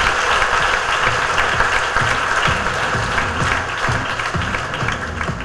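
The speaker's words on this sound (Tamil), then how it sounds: "நம்மளோட வாழ்த்துக்களோட நல்ல கைத்தட்டு." Loud, sustained applause from an audience at an IAS felicitation function, dense clapping filling the hall steadily and fading slightly toward the end, with no speech over it.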